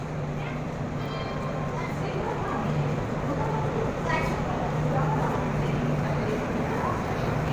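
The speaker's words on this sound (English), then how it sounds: "Guys, our train is arriving." Steady low rumble of the LHB-rake Gomti Express arriving at Kanpur station, with rail noise and station bustle, a voice talking over it throughout.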